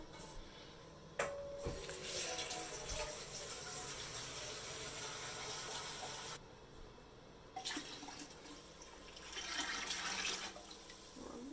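Water runs and pours into a heavy pressure canner for canning meat, a steady rushing stream with a brief break partway through, fairly quiet and with no talk.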